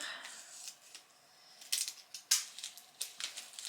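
Makeup palette packaging being opened, a series of sharp crinkling and tearing bursts, close and fairly quiet, with short pauses between them and no talking.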